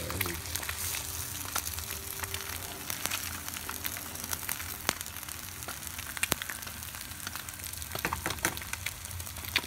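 Eggs cook into an omelet-like mass in a pan, giving a steady, close crackling sizzle with scattered sharper pops throughout.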